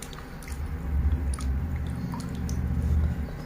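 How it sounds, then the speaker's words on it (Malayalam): Rice is washed by hand in a bowl of water before soaking for Palakkad-style kozhukkatta: low, churning sloshes and squishy swirls with faint drips, close and continuous throughout. "അപ്പോൾ ഇത് നല്ലപോലെ കഴുകി"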